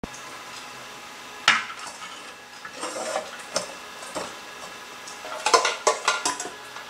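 A large household cooking pot clanks and scrapes on the metal pot stand of an Optimus Polaris Optifuel multifuel stove, giving a few sharp metallic knocks and softer rattles, close and alone.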